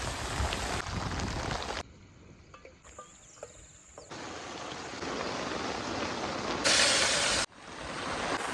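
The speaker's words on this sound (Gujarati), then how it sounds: "વરસાદ ભૂકા કાઢે છે." Heavy rain pours on a forest campsite at night, a steady dense hiss that swells and drops as the clip cuts between moments, with faint insect chirps and occasional drips underneath.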